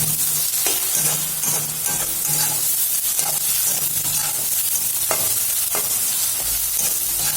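Tomatoes fry and soften in a hot pan with turmeric and chilli, a loud steady sizzle broken by repeated scraping stirs and clicks of the utensil, close up and with no talking.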